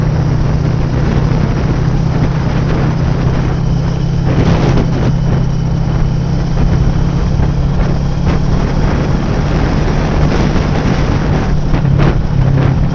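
A loud, steady engine drone with constant wind rush from an FKM Falcon X 400 motorcycle cruising at speed on a highway near Kaybiang Tunnel, holding an even hum throughout without pauses.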